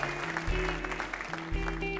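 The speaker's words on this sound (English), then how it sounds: "How about a round of applause for all our volunteers back here?" An audience at a comedy show applauds the volunteers, with steady clapping under a sustained musical tone from the stage.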